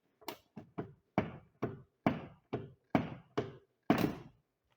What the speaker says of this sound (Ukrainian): Дверка закривається таким чином.